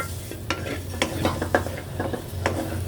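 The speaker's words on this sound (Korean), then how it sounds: "이렇게 잘 볶아주고" Ingredients stir-fried in a pan for Korean cooking, a steady low sizzle under repeated scraping and tapping strokes of a utensil, close and moderately quiet, no voices.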